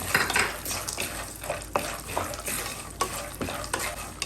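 Peanuts stirred and roasting in a pan while making aval mixture, a busy scraping, rattling and light sizzling with frequent metallic clinks of the spoon against the pan, close and steady.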